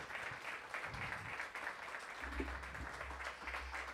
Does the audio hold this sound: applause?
yes